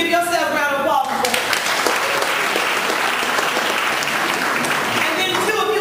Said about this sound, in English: So if you are a distributor, give yourself a round of applause.